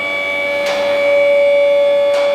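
A loud steady siren drones continuously at the start of a forklift race, a sustained tone with brief broadband bursts layered on top.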